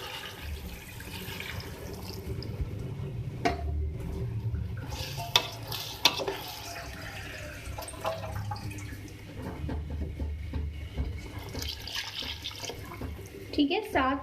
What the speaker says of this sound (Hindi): अब इसमें वाटर ऐड कर देंगे।